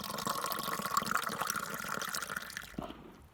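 Water from a spring in rural Bulgaria near an old Roman road pours and splashes continuously at close range, a bright trickling flow that fades out at the end.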